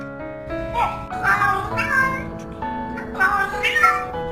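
A cat meows several times in drawn-out, rising calls over a tonal musical backdrop, loud and close.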